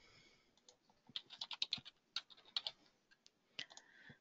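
Quick bursts of clicky keystrokes on a computer keyboard as a value is typed in, close and fairly quiet, with a few brief pauses between clusters of taps.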